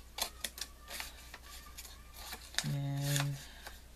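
Scissors snip craft material for an altered house project, a run of short crisp cuts at uneven intervals, close and quiet, with a brief tonal hum near the end.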